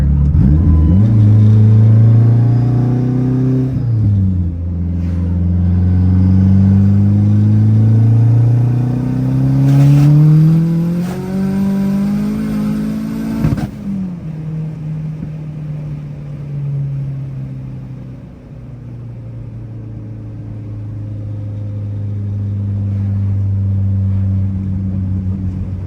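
A big-turbo Dodge Neon SRT4 at wide open throttle, loud and close, its engine pitch sweeping up through the gears with shift breaks, then settling into a lower steady drone, with no voices.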